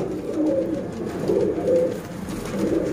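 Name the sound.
pure chap pigeons cooing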